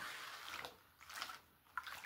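Water sloshes and splashes in bursts as a gold pan is swirled and dipped in a stream to wash away the larger stones, a quiet and irregular sound close by.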